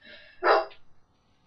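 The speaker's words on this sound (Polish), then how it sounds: "nikt nie idzie, ani nikt nie jedzie, a ten szczeka na normalnie" A dog gives a single sharp, fairly close bark, followed by a few faint softer trailing sounds, with no talking.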